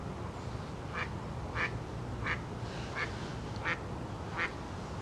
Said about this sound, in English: There's a little duck back there.